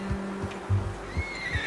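A horse whinnies in Red Dead Redemption 2, a short, fairly close neigh with a few stuttering breaths and faint hoof movement.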